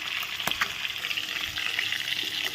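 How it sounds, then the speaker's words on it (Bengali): Pieces of catla fish fry in hot oil for a rezala with a steady, dense sizzle and crackle. A few sharper pops stand out near the start. No one speaks. "এই মাছগুলো ভাজা হচ্ছে দেখো"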